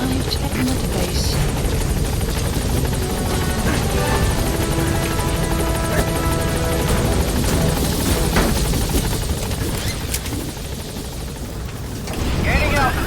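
The Pequod helicopter from the video game Metal Gear Solid V hovers close by, its loud rotor drone steady and throbbing throughout, with game dialogue spoken over it and the noise easing briefly near the end.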